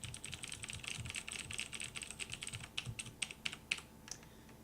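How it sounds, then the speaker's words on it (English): A Cherry MX Blue mechanical keyboard is typed on in a fast run of crisp clicky keystrokes that slows into a few separate presses, close up but quiet. "Let me show you what the Cherry MX Blue sounds like, because I have another keyboard right here."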